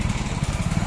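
A motorcycle engine idles with a low, rough, pulsing rumble while the bike is parked at a college entrance, steady and close throughout the short moment.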